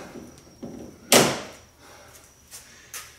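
Pop rivet mandrels on a boat rub rail are snapped off with pliers, giving one sharp, loud snap with a ringing tail, plus a few fainter clicks before and after it.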